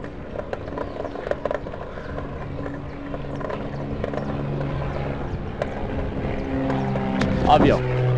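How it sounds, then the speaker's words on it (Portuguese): Helicopter passing over a bike ride in Tapinas, São Paulo, a steady rotor drone building gradually beneath wind and road noise, with brief talking near the end. "Avião."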